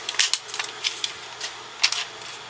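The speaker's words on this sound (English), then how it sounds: "And I just love the crinkling that infusible ink sheets make." Cricut infusible ink sheets crinkle and crackle as the outer layer is peeled away, giving short bright bursts in irregular clusters, close and fairly quiet, with no voices.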